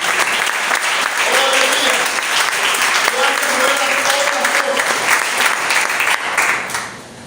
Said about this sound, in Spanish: Tengo un aplauso al Señor en el nombre de Jesús.